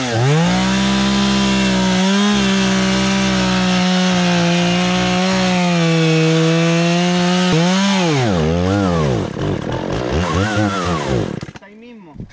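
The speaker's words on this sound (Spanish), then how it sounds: "Esta motosierra es toda rara, weón" A chainsaw cutting wood on a hillside trail-building job, loud and close, its engine holding a steady high rev before bogging and swooping up and down as the cut finishes and the motor dies down near the end.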